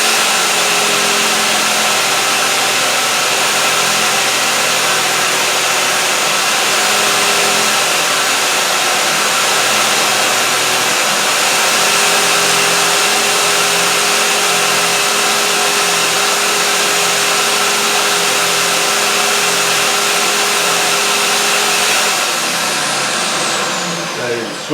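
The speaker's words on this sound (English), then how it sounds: "turning on the drill, and then grinding these smooth" A power drill spins coat hanger wire against a grinder to smooth it, making a loud, continuous whirring drone that holds steady throughout before tailing off briefly at the end.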